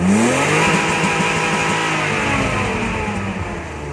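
A warmed-up car engine revs hard and steadily close by, its loud droning note sweeping upward and holding for several seconds before tapering slightly, with no voices over it.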